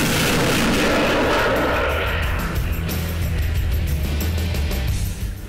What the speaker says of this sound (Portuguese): vir aqui e realizar o tiro nesse ambiente operacional